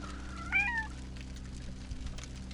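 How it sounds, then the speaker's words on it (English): A cat in the video game The Lost Crown gives a single short, high meow over a quiet, steady background hum, with no one talking. "That cat sounds a lot cuter than that cat."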